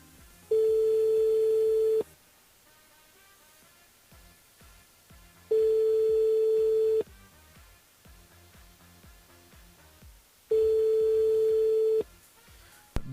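Telephone ringback tone on a radio station's call-in line, three steady long rings separated by pauses, heard over quiet studio background.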